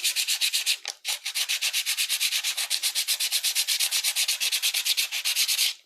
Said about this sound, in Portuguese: Tem que lixar bem lixadinho.